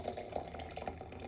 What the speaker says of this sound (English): I'm gonna pour some not exactly boiling water on top of it because I don't want to burn the tea